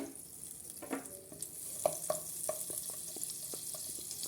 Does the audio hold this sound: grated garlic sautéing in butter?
yes